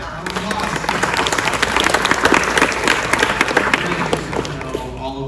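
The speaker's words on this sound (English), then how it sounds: "Round of applause." Audience applause from a crowd at a TRON 40th anniversary panel at the El Capitan theatre, dense and steady throughout, with scattered sharper claps and some voices mixed in.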